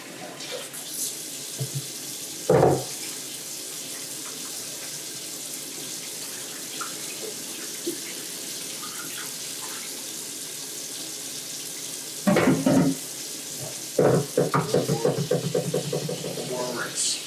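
Tap water runs steadily over rice being rinsed in a sink for Cajun jambalaya, a continuous wash of flow throughout, with brief clatters and a voice talking near the end.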